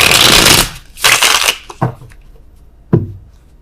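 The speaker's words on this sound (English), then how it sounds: "Oh, worst shuffling in the world." A deck of tarot cards is shuffled up close, with two loud riffling bursts followed by a few softer card taps and one sharp slap of the deck near the end.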